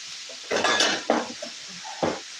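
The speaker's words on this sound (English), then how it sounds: "Food cam. As it cooks and sizzles." Dinner food sizzling as it cooks in a pan, with short bursts of stirring and utensils clattering against cookware close by.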